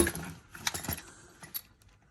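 Metal wrenches and a socket from the stock toolkit of a Can-Am DS650 quad are rummaged through, giving a few quiet close clinks and jangles that fade out.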